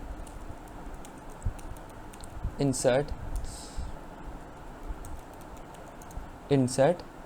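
Computer keyboard typing an SQL insert command, heard as two short bursts of quick key clicks a few seconds apart, close and fairly faint, with a speaking voice alongside.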